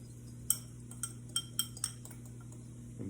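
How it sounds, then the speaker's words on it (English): Spoon stirring flour in a bowl for Creole shrimp, a handful of sharp metallic clinks against the bowl spaced irregularly over a low steady kitchen hum, close and fairly quiet. "I'm just going to kind of stir that around. Just kind of blend that together in this bowl here."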